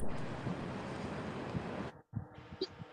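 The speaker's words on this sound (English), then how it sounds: "It's the current noise from Jerry" Steady rushing water noise from a river current picked up by a microphone on the Mississippi, a broad continuous wash that briefly cuts out before returning with soft knocks and bumps.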